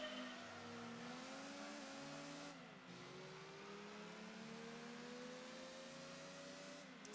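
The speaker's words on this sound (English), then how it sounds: "Sounds like a completely different car now." A front-engine car in the video game Gran Turismo 2 drones steadily with a thin, buzzing engine note that rises and falls as it revs through gears, faint and continuous with no talking.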